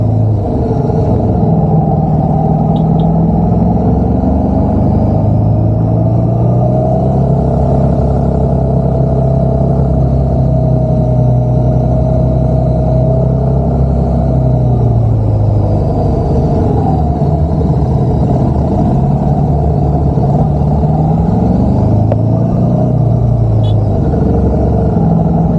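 Motorcycles riding in a group along a steep hill road toward Bukit Sirogol near Baturaden, a steady loud engine rumble with shifting pitch as the bikes climb and change speed, no voices.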